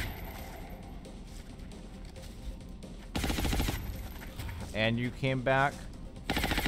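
Rapid bursts of gunfire ring out in XCOM Long War, loud automatic volleys cutting in between stretches of quieter battle ambience, with a voice speaking briefly over the shooting.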